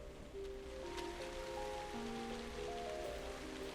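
Rain falls as a soft, steady hiss in The Legend of Heroes: Trails of Cold Steel while quiet game music hums underneath.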